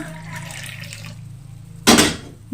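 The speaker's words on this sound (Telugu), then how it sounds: "ఇప్పుడైతే ఈ వాటర్ని అయితే గ్లాస్లోకి అయితే పోసేసుకుంటున్నా" Warm water is poured into a glass at home, a short, loud splashing gush after a quiet stretch with faint background hum.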